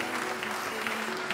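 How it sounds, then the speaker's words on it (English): Wedding guests applauding at Chalk Hill Estate Vineyards, a dense, even clatter of many hands from a room-filling crowd, loud and steady for the whole moment. "So let's give ourselves a round of applause."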